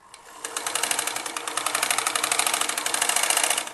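A sewing machine stitching fabric for a baby's elastic frock runs up quickly and then whirs in a steady, close, rapid mechanical rhythm for the whole stretch.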